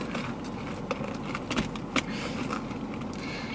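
Keys jangle inside a Louis Vuitton makeup pouch, a close, continuous metallic rustle with a few sharper clinks as they are dug out.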